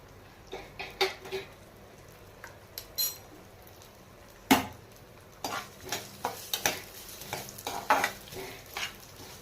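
Sesame seeds, with poppy seeds to follow, are stirred and dry-fried in a pan for laddu, giving a soft sizzle under repeated scraping strokes and light metallic clinks of a spoon against the pan.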